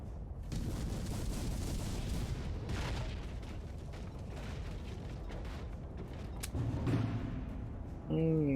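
Ship cannon fire in Port Royale 4 during a naval battle, with rumbling broadside booms and crackling blasts over a continuous battle din, and a voice speaking briefly near the end.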